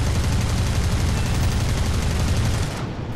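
A 20mm cannon fires in a War Thunder air battle from a Yak-1 fighter, a loud, dense, rapid unbroken burst that roars steadily for nearly three seconds before cutting off abruptly.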